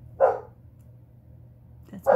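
A large deaf dog barks twice, a single loud woof near the start and another about two seconds later, fairly close with quiet household background between.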